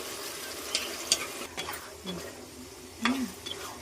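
Soft sizzling of tamarind and spices frying in oil for pulihora, with occasional stirring scrapes and clinks, fairly quiet and close, a faint voice briefly in the background.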